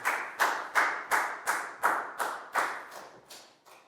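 Classroom applause for a pupil during a Year 4 maths lesson: about a dozen evenly spaced, sharp group claps in a steady rhythm, fairly close and alone, tapering slightly toward the end.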